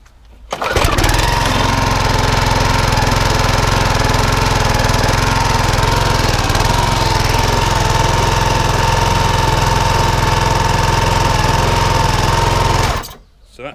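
An engine with a drive that stays constantly engaged roars steadily and loudly just after starting, running for about twelve seconds before cutting off.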